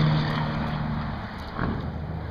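An American truck engine labors up a hill, making a loud, steady low drone with wind-like rush over it and a brief shift in tone partway through.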